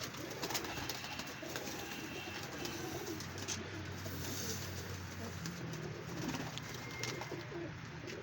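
Pigeons coo at a pigeon show, a steady low cooing bed running throughout with a few higher chirps, moderately close and continuous, with no talk over it.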